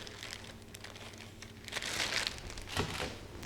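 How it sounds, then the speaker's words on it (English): Plastic zipper bag crinkling and rustling close by as diced onion is put inside, with irregular soft crackles building to a louder crumple in the middle. "We're going to put half of this in a zipper bag."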